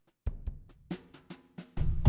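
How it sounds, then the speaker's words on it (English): A sampled snare drum from Superior Drummer, played with brushes, gives a handful of soft, swishy, irregular strokes. A few lighter taps fall between them, and the last hits are heavier and fuller. No voices are heard. "There's also different types of snares. You can do brushes,"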